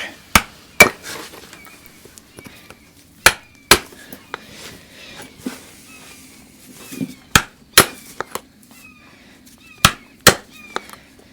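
A hammer used like a mallet taps on the horseshoe nail clinches of a draft horse's hoof to straighten them, giving sharp metallic strikes, often in quick pairs, with pauses between them and faint background noise.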